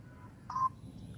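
A single short telephone keypad dialing tone beeps close by and stands alone over a low background hum.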